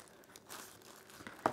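Plastic bag crinkling as a FiiO KA17 portable DAC is unpacked, quiet soft rustles throughout with a sharper crackle near the end, no talking.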